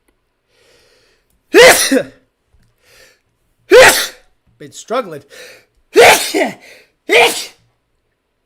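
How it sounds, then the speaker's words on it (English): Several loud, forceful sneezes close up, four in a row with gasping breaths between, and a brief spoken remark in the middle. "I'm going to sneeze"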